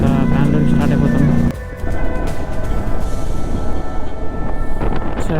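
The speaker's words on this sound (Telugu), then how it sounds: "సడన్గా గాలి పెరిగిపోయింది." Sudden strong wind buffets the microphone outdoors during a solo motorcycle ride near Chikmagalur, a loud, steady roar that rises abruptly after a brief lull.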